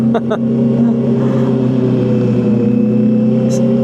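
Honda CB650R E-Clutch motorcycle climbing a steep hill in low gear, its engine a loud, steady low drone held close throughout, with a couple of brief clicks near the start.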